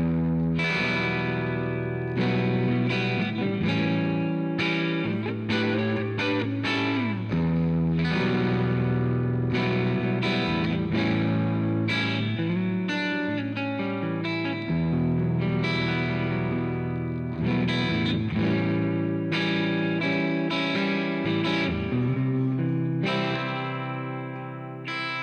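Electric guitar strung with D'Addario XS strings plays driven chords and riffs through an overdriven preamp with chorus-like effect, gritty and sustained, loud and continuous for the whole stretch with no speech.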